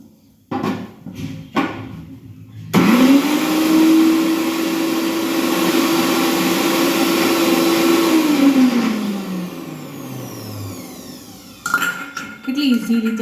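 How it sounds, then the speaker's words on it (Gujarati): A mixer grinder dry-grinds garlic chutney, whirring up sharply into a loud sustained motor whine that holds for several seconds, then winds down, with knocks and handling noise before and after. "પણ આપણે મિક્સરમાં બનાવીશું અને ડ્રાય વેમાં બનાવીશું."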